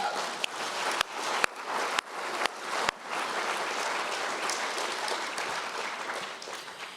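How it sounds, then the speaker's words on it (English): Audience at a Make-A-Wish Idaho fundraiser applauds Wish families, a room full of clapping, with a few loud near claps punctuating the opening seconds before settling into an even wash that tapers slightly at the end. "let's give them a round of applause"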